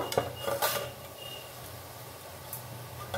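A mixer grinder jar lid is pulled open in a home kitchen after spices are dry-ground, giving a couple of close, brief plastic-and-metal clatters followed by low background rustle.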